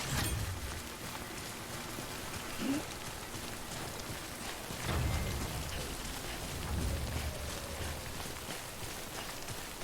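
Steady rain from the game Death Stranding patters throughout, with a few low rumbles and thuds rising briefly above the wash.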